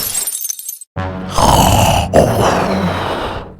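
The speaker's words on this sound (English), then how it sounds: "It's just me snoring." Loud, rough snoring with a deep rasping inhale, broken by a brief silence, up close and alone.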